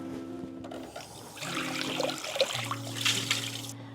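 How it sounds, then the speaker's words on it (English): Running tap water rinses out a mixing bowl in a kitchen while eggs cook, a steady splashing flow over a low humming background that continues for about four seconds. "I'm gonna rinse my bowl out"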